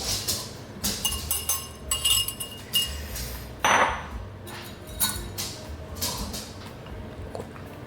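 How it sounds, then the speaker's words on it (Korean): Cake batter for a Hummingbird Cake being scraped from a mixing bowl: a string of light clinks and taps of a utensil against the bowl, with softer scraping between, close and moderately quiet. "볼 끝까지 다 긁어주시고요."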